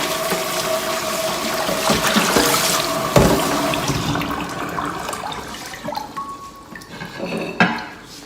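Cold water is poured out and drains in a steady, rushing splash that trails off into drips and gurgles, fairly near and with no talking.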